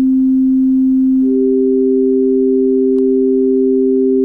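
A pure, sine-like note from a polysynth in MUX software sustains steadily, then a second higher note joins after about a second, both ringing together cleanly to the end.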